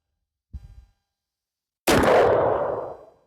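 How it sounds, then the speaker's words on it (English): Pistols fired up close at targets on a shooting range: a short muffled thump, then one loud sharp report that rings and decays over about a second; no talking. "So we're just gonna try out some pistols from up close and see if we can hit any of this stuff."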